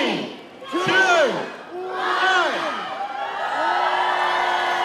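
A lively crowd cheers at the Christmas tree lighting in James Weldon Johnson Park in Jacksonville during Art Walk, with rising whoops and shouts that swell in waves into sustained, moderately distant cheering.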